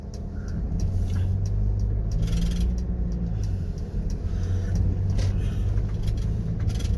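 ASDA delivery van driving on the road, a steady loud engine rumble and road noise with low drone throughout, no talking.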